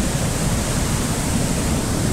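Forceful rushing water of the Ganga river near Rishikesh, a loud, unbroken roar of churning flow close by with no voices over it.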